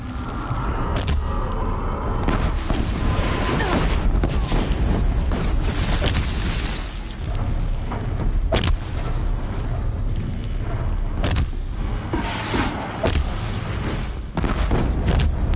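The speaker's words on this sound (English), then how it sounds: "Blast bombs seem to do the job." Blast bombs go off in Horizon Zero Dawn, bringing repeated heavy booms and rumbling impacts over a loud, continuous game soundscape, with sharp hits scattered throughout and no clear speech.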